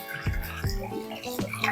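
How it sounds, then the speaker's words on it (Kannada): Water poured into a cooking pot while making spinach biryani, a gurgling, splashing flow with a few sharp drip-like bursts, close and fairly steady throughout. "ಈಗ ನೀರನ್ನು ಹಾಕೇ ಬಿಡೋಣ."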